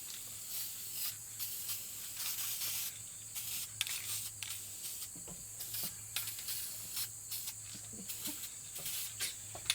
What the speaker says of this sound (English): So I'm just going to spray them.